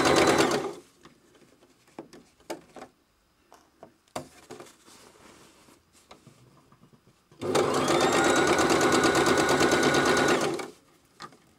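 A sewing machine stitches along an existing seam of a small reversible jacket, with scattered light handling clicks followed by a loud, steady run of about three seconds of continuous stitching.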